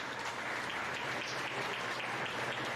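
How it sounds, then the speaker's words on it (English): Applause at a county meat goat show for senior showmanship participants fills the room with a dense, even wash of many hands clapping, steady and moderately distant, with no talking over it. "Let's give your senior showmanship participants a nice round of applause as well."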